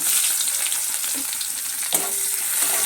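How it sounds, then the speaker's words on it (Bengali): Chopped onion dropped into hot oil for a cauliflower and katla fish curry, sizzling loudly and steadily up close with a brief burst of crackle and a stirring scrape partway through. "পেঁয়াজ দিয়ে দিচ্ছি"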